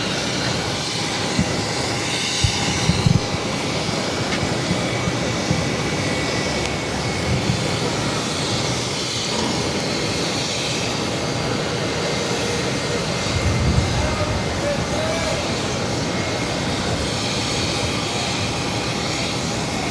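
A jet taking off from runway 22 right at Boston Logan Airport, a steady broadband engine roar that holds at a distant, even level throughout with no voices.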